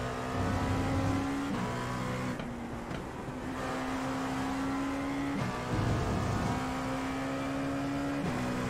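GTE race cars in the iRacing simulator at Barcelona roar past in a steady, loud engine drone. Sustained revving tones shift as gears change, and the tone dips briefly near the middle.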